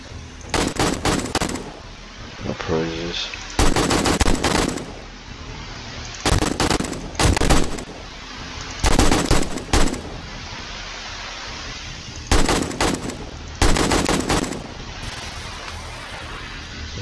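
Loud bursts of automatic gunfire during horde night in the video game 7 Days to Die, several sustained volleys separated by short pauses, with no talking.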